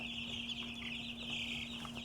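Meat chicken chicks in a brooder, a steady chorus of high, continuous peeping and cheeping close by with a faint constant hum underneath.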